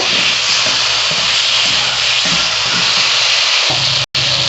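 Raw tomatoes hit hot oil in a pan of spicy tangra fish curry with potatoes, giving a loud, steady sizzle that holds throughout and cuts out briefly near the end.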